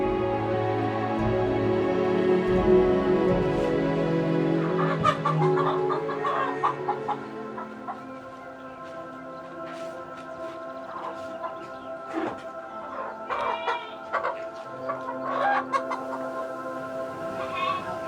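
Chickens cluck repeatedly at close range, with a busy mix of other sounds layered around them; a rooster's crow is not clearly distinguishable.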